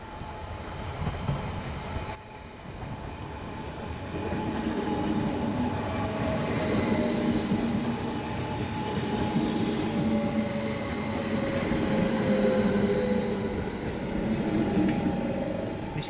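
A Stadler KISS double-deck regional train rolls past trackside, its steady rumble and wheel noise holding loud and continuous, with a brief squeal of wheels on rail high above the roar.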